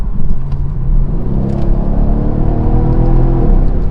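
A Mercedes-Benz CLS550 twin turbo V8 revs hard, a loud, deep, close rumble that builds and holds for several seconds.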